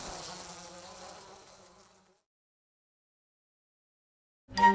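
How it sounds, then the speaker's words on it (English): Swarm of bees buzzing from a honey tree as they fly off, a broad steady drone that fades out over about two seconds, then silence before a brief louder sound at the end. "The bees quickly departed."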